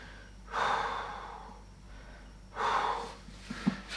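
Deep, slow breaths during a strap-assisted stretch in a mobility routine: two long, airy exhalations about two seconds apart, close and fairly quiet, with a small sharp sound at the end.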